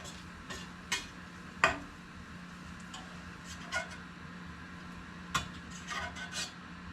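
A metal utensil scrapes and clinks against a vintage Chefs Ware model 600 electric skillet while hamburger steak and onions cook, giving short, irregular scrapes over a soft, steady sizzle.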